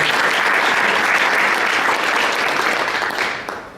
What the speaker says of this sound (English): please give yourself a round of applause for the performance you did